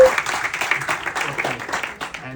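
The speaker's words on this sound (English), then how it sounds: "Let's have another round of applause for Annette" Applause for Assemblywoman Annette Quijano at a Three Kings celebration at Trinitas Regional, a dense, steady round of clapping from an audience, moderately loud and continuous throughout.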